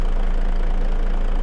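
Vehicle engine idling in Farming Simulator 25, a steady loud low drone with even vibration throughout and no talking.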